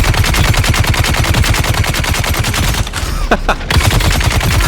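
Rapid automatic gunfire from the video game Dune Awakening rattles in a dense, fast, loud stream that breaks off briefly in the middle before resuming.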